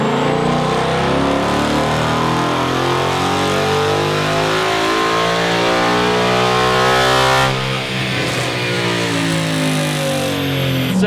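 Engine of a Ford Mustang S550 revving hard through a dyno pull, a loud sustained climbing roar with rising harmonic sweeps that dips briefly near the end before continuing to run.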